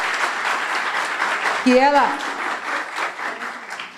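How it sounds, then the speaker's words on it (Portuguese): Audience applause for a speaker at a congress lecture, a steady wash of clapping throughout with a person's voice briefly heard over it near the middle. "Mas eu queria uma salva de palmas bem grande"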